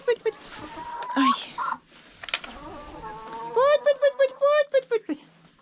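Backyard hens and a rooster cluck near the microphone, scattered calls at first and then a rapid run of sharp, rhythmic clucks toward the end, with a person speaking quietly between them.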